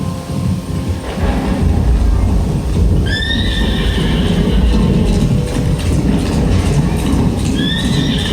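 A horse neighs in a dramatized Mahabharata scene with the Pandavas' Ashvamedha sacrificial horse. Two loud whinnies, one near the middle and one near the end, rise over a dense, rumbling background.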